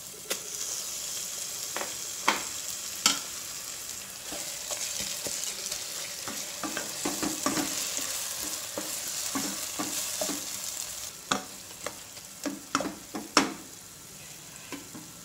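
Masala with tomatoes frying in a pan for mutton pulusu, a steady sizzle punctuated by sharp scrapes and knocks of a spatula stirring, busier toward the end, no talking.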